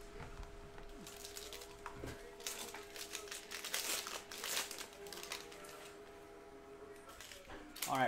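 A 2019-20 Panini Chronicles basketball card pack being torn open, close crinkling and ripping of foil wrapper in bursts, with a few sharp tears and faint voices in the background.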